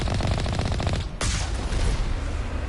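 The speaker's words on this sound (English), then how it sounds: "Someone is shooting at us." Rapid automatic gunfire in the Mass Effect video game, a dense burst of overlapping shots that cuts out briefly and resumes with scattered shots and booms, loud and close throughout.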